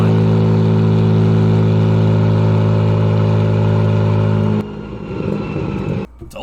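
Ford 5-liter inline six engine revving, a loud sustained high rev that cuts off abruptly partway, leaving rougher lower running before a brief drop.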